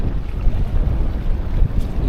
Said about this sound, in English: If this wind would drop, it'd be a really nice day.